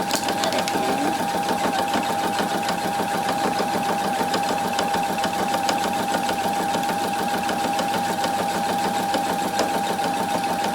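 A sewing machine runs steadily at moderate speed, stitching fabric for a decorative pillow, with a continuous whirring hum and a fine rapid needle rhythm throughout, close and alone.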